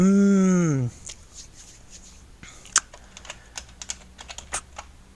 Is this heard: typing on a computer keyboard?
yes